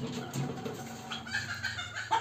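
On a farm, a pair of large Brahma chickens cluck softly near by, with a few short clucks and low murmurs in a quiet setting.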